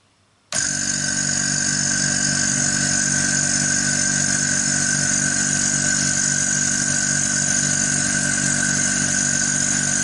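A Suzuki Katana DX car engine starts after near silence and settles into a steady, loud idle with a constant hum and a high whine, close by, with no talking.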